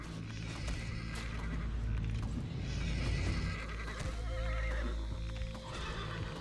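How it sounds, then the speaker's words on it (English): In the video game FATE, a horse neighs and whinnies repeatedly over continuous hoof clip-clop and dense game noise, loud and close throughout. "God, all the different horse noises."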